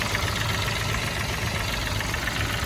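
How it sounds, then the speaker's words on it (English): A three-cylinder petrol engine idling in a Toyota Aygo, Citroen C1 or Peugeot 107 city car, making a steady raspy drone with a low uneven throb, close and continuous. "Listen to that 3-cylinder rasp."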